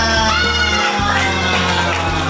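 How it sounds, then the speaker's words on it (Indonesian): Children in a classroom clap and cheer together in a loud, continuous burst of applause mixed with excited shouts and whoops, filling the whole moment. "Tepuk tangan buat kita semuanya"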